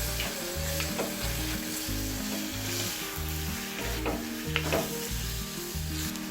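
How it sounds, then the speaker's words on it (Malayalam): Cleaned prawns roasting in a pan with shallots, a busy close sizzle and crackle of frying with stirring scrapes, no voices, accompanied by a rhythmic background music track. "ഇതിലേക്ക് നമ്മൾ കഴുകി വൃത്തിയാക്കി വെച്ചിരിക്കുന്ന ചെമ്മീൻ ചേർക്കാം. അതൊന്ന് ഇതിലേക്ക് ഇട്ടിട്ടൊന്ന് റോസ്റ്റ് ചെയ്യാം."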